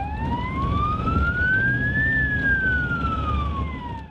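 A Ukrainian ambulance siren wails loud and close in a single slow rise-and-fall sweep, with a low vehicle rumble beneath and no talking.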